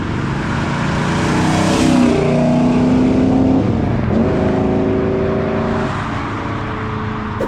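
A 1970 Chevelle SS 454 V8 with a 5-speed rumbles steadily at about 50 mph through a turn, loud and close, with shifting engine tones as the load changes mid-corner.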